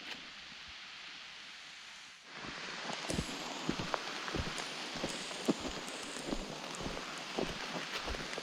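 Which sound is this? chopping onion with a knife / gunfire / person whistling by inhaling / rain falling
rain falling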